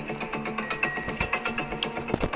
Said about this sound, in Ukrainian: І дзвонить дзвіночок.